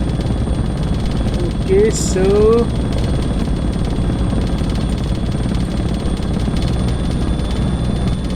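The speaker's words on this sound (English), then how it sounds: "So I will be switching back to manually flying the helicopter in a moment." A helicopter's engine and rotor in a desktop flight simulator, a steady loud drone with a continuous whine that runs unchanged throughout, while someone speaks briefly over it.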